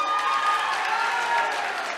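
Loud, sustained applause from a meeting audience in Kanker, a dense steady wash of hand claps filling the whole stretch without pause.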